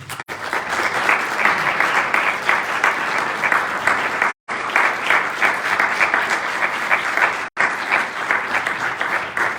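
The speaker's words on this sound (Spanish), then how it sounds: "le damos otro aplauso a Enrique" An audience at a book presentation in Medina del Campo breaks into loud, sustained applause, with dense, even clapping broken by two brief cuts.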